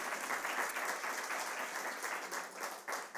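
A church congregation applauding, dense steady clapping that fills the whole stretch with no voices over it.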